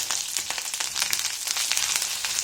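Dried red chillies and curry leaves crackle and sizzle steadily in hot oil, a close, dense bright hiss with small popping bursts throughout.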